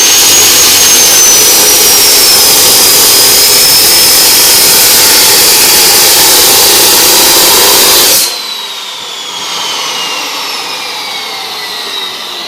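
A power tool cutting through metal, a loud, sustained high-pitched grinding whine that drops to a quieter spin-down after the cut ends.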